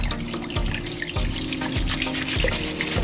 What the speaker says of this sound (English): So what I'm doing is rinsing the rice until the water is clear.